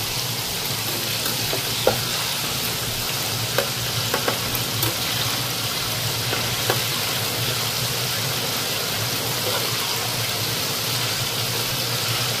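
Breaded chicken pieces fry in a pan with a loud, continuous sizzle and hiss, broken now and then by a few sharp pops and crackles, with no one speaking.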